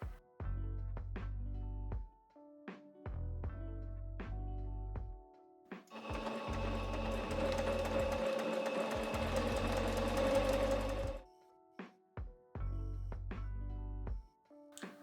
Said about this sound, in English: But now we get to sew all of it together, which is super exciting.